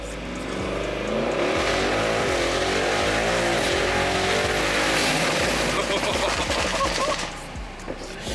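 A 900 HP Brabus tuned Mercedes-AMG GLE 63 S Coupe accelerating hard from 0 to 100, a loud, close engine roar with rising pitch sweeps and shift breaks, continuous through the run before easing off.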